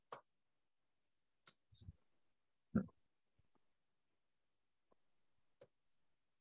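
Sharp mouse clicks used to open a right-click menu in script mode while a simple function is typed up, scattered singly and in pairs across quiet gaps, close and crisp.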